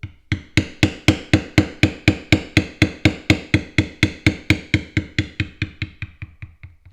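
A mallet pounds a leather tooling stamp in a fast, even series of about two dozen sharp, close knocks that grow softer and more spaced toward the end.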